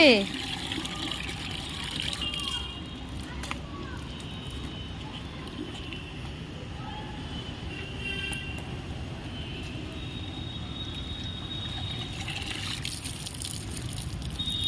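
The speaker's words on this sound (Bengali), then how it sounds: "ওরে বাবা, সত্যি সত্যি কাপড় ধুচ্ছে।" Clothes are washed by hand with water on a rooftop, giving a continuous wet sloshing and trickling with soft splashes over a steady background hiss. Voices speak over it.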